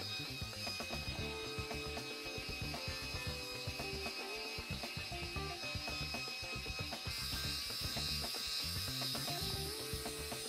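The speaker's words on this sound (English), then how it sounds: "This feels more like a cleansing brush." A Duvolle Radiance Spin Care electric facial cleansing brush runs continuously, a close, steady motorized buzz with a faint rattling texture, no speech over it.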